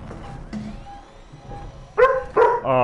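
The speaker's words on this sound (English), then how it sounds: "My dog just scared the shit out of me." A dog indoors suddenly lets out three loud, sharp barks in quick succession near the end, close by, after a stretch of quiet background noise.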